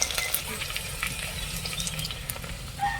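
Onion and garlic sauté in a pan for a seafood meal, with a soft, steady sizzle under occasional light clinks and scraping from stirring.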